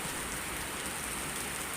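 Heavy rain pours down steadily on a village home in Thailand, a dense, unbroken hiss of drops on surfaces with no voices.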